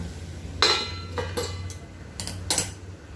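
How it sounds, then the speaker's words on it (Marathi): Several sharp metallic clinks and taps sound as a lid is set back onto a cooking pot, a scattered handful of close, bright knocks over a low background hum. "मी परत एकदा झाकण ठेवते"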